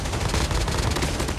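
An AK 117 rifle in Call of Duty Mobile fires in close, loud, rapid bursts, the shots packed into a dense rattle with no talking.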